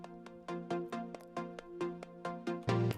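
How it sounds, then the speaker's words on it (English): Layered super saw synth pluck presets play a bright, repeating sequence of short, evenly spaced plucked chords, with a fuller, thicker chord hit at the end, no voices. "This is another super saw pluck"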